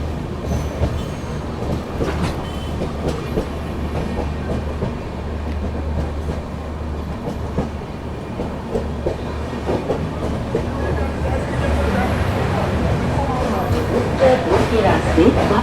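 Heard from aboard the 12450 Goa Sampark Kranti Express as it pulls into Kota Junction, a deep steady rumble of rolling wheels and clattering rail joints continues throughout, with a person speaking over it.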